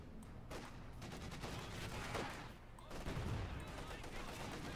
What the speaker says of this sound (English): Pack for Fees bombarding the base now